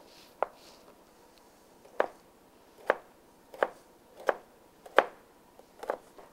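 A knife dicing firm, low-juice tomatoes on a cutting board for avocado feta salsa: seven sharp, separate chops at an uneven, unhurried pace, close and clear with no talk.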